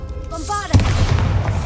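A Bombarda explosive spell from Hogwarts Legacy lands as a sharp, loud blast partway through, following a brief whooshing tonal cast and trailing into a crackling rumble, with a game voice just before.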